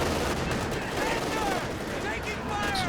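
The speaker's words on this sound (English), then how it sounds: "Calliope barrage coming in." Calliope rocket barrage in Company of Heroes 2, a dense continuous roar of rapid explosions and whooshing rockets filling the whole clip at steady high loudness, with a voice talking over it.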